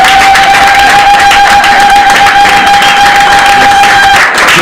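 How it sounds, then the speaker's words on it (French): A church congregation applauds and cheers, a dense, loud, continuous wash of clapping with a steady sustained tone running beneath it that cuts off near the end. "Est-ce que tu peux acclamer Dieu?"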